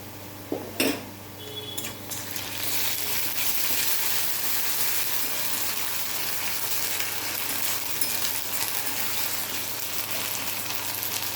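Ginger-garlic paste hits a pan of fried onions with a brief clatter, then a loud, steady sizzle of frying carries on alone without pause.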